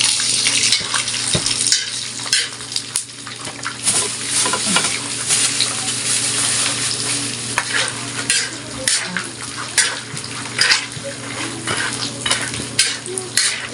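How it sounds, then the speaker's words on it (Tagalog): Peanuts fry in hot cooking oil in a pan while being stirred. A loud, continuous sizzle runs throughout with frequent scraping and clattering strokes, and no one speaks. "ilagay na natin yung mani. Mas maganda yun, mas maganda pag yung mantika is napainit guys para dali lang siya maluto."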